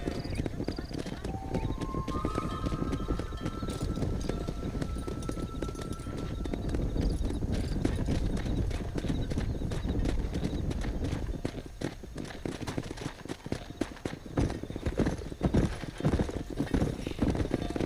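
Horse hooves clip-clop and gallop steadily in Red Dead Redemption on Xbox Series X as a rancher drives the herd, with an occasional whinny and a voice calling out over the loud, continuous hoofbeats.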